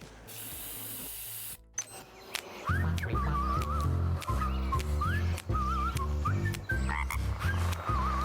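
Frog croaks from a video game trailer come in a loud, rhythmic series of pulses with warbling trills over them, following a brief burst of noise at the start.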